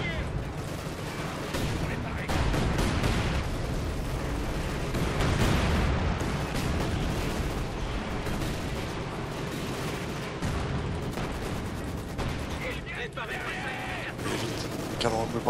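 Gunfire and artillery explosions from the World War II strategy video game Company of Heroes 2, including anti-tank gun shots, form a loud, dense, continuous battle din with booming blasts and crackling shots, and someone talks in French over it.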